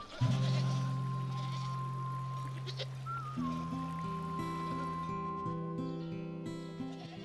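Goats bleat in chestnut woods and maquis, with several drawn-out calls, the first loud and near and later ones overlapping, set against a faint steady background hum.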